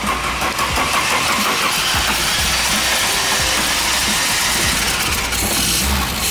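Nissan 240SX car engine running: a loud, steady, dense mechanical roar and rumble persisting for several seconds without talk, consistent with a freshly started engine idling up close.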